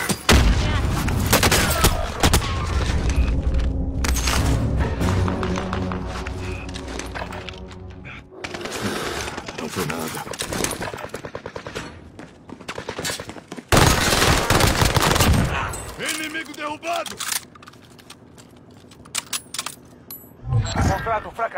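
Rapid bursts of automatic gunfire and explosive booms in the online shooter Warzone, loud and repeated in clusters with short pauses, mixed with game voice lines and players talking.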